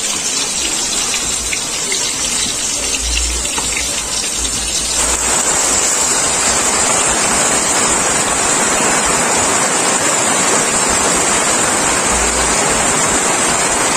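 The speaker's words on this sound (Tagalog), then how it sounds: "Siguro naman po na papakinggan yung patak ng ulan sa aming bubong." Heavy rain pours steadily onto a house roof for the whole stretch, a dense, loud, continuous patter that swells and thickens partway through, with no voices over it.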